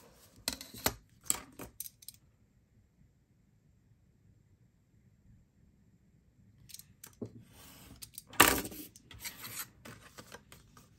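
Scissors snipping scrapbook paper, crafted with a 123 punch board, in two short bursts of cuts at the start and a longer cluster of crisp snips later after a quiet pause.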